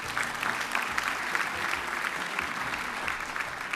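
Audience applause for a contestant returning to their seat at a live French game show, steady dense clapping filling the room throughout.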